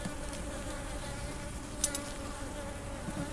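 Honey bees buzzing close by during a hive inspection, a steady, faint droning hum with a few louder passes near the microphone and no talk.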